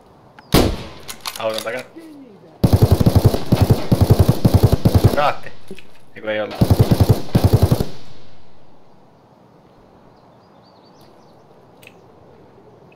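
Gunfire in the first-person shooter Escape From Tarkov: bursts of automatic weapon fire in two long stretches and a shorter one, loud and close, with excited talking in between and after.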